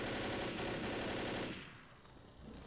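Rapid automatic gunfire from a gun in the video game Left 4 Dead, a dense burst of fast shots for about a second and a half that then cuts off, leaving a quieter rumbling tail.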